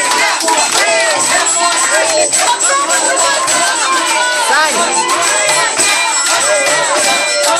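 Spectators at a contest cheer loudly for their team, a dense and continuous wall of shouting and whooping voices that stays close and steady throughout.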